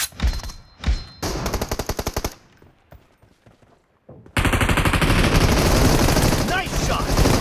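Bursts of rapid automatic gunfire from the PUBG Mobile game during a team deathmatch, loud and close, with short volleys early, a quieter gap, then a sustained dense stretch of firing to the end.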